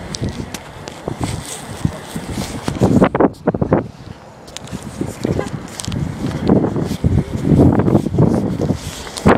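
Gusts of wind buffet the microphone in uneven rumbling bursts, with a brief lull partway through before the blustering picks up again.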